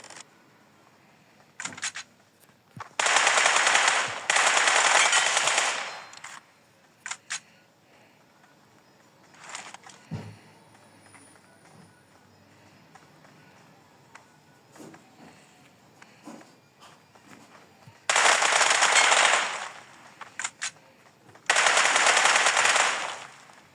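Bursts of automatic gunfire in the mobile battle royale game PUBG Mobile, several sustained rapid volleys separated by quieter gaps with scattered single shots and footsteps.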